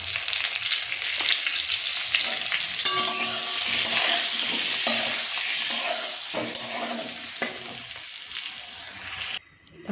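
Pointed gourd frying in ghee with salt and turmeric, a loud continuous sizzle with occasional stirring scrapes and clinks of the pan, close up and without talk.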